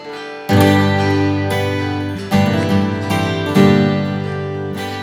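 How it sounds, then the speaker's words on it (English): MIDI-triggered 12-string guitar sample library, bright shimmering strummed chords rung out in a slow rhythm, each new strum swelling over the lingering decay of the last, with no voices. "I'm going to start by using the Midi to play a contact sample library of a 12-string"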